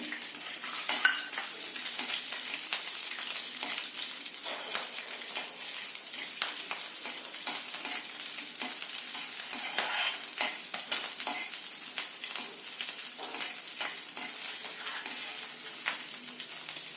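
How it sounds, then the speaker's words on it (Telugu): Fenugreek seeds and green chillies frying in oil in a pan, a steady bright hiss with dense crackling spatter throughout, close and even, with no talking. "మెంతులు వేగాయి. పచ్చిమిరపకాయలు వేస్తున్నాను."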